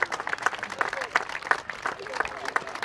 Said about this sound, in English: Round of applause for our pipe and drum